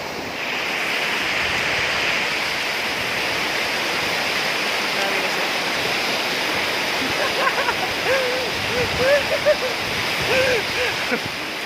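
Rushing water of a river in Kayapa, Nueva Vizcaya, roars steadily and broadband, with faint voices and a dog's barks appearing toward the end.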